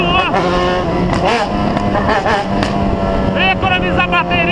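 A motorcycle accelerating hard up close, its engine note climbing in repeated loud rising sweeps as the rider works through the throttle.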